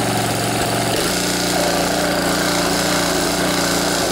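A Honda GC160 small engine runs at a steady idle after a valve inspection and exhaust valve adjustment, giving a continuous, loud, even mechanical drone close by with no talk over it.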